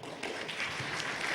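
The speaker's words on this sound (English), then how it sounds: "So please give him a big round of applause." Audience applause at the Toorcon 2007 security conference greets Jared DeMott as he takes the stage, a dense, steady wash of many hands clapping that fills the room and holds at even loudness throughout.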